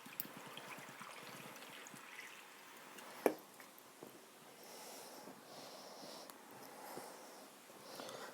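Monster energy drink poured from a can into a glass, a soft continuous liquid stream and trickle with a single sharp clink near the middle, fairly faint and heard alone.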